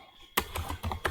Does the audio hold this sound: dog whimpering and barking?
no